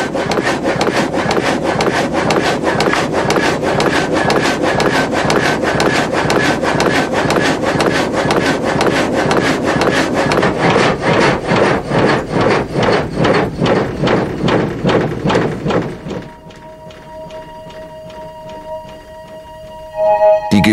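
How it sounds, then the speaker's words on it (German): A frame saw in an old sawmill cuts lengthwise through a wooden board in loud, rhythmic back-and-forth rasping strokes. The pace slows gradually, then the cutting stops abruptly, leaving a faint mechanical hum before a brief final clatter. "Er verlangsamt die Geschwindigkeit des Gatters."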